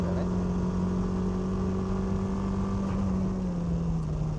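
A lowered BMW's engine drones loudly and continuously as the car slides sideways, its pitch sagging slightly over a few seconds with road and wind rumble underneath.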